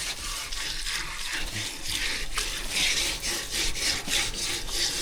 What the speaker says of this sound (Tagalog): kaskasin muna natin kunti kinakalawang na to